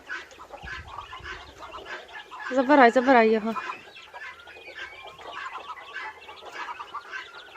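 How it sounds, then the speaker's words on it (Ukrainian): A muscovy duck hen takes in a crowd of ducklings of mixed ages, with steady soft peeping chirps and a louder burst of calls in the middle, while a person speaks nearby. "Бачите, індокачки приймають каченяток."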